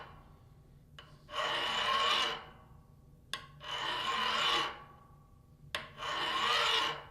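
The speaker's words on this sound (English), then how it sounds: "As before, we'll apply 3 to 5 strokes with the file." Three slow, rasping file strokes scrape across a steel workpiece held in a vise during a file hardness test, each about a second long with a faint click before it, close and clear in a quiet room.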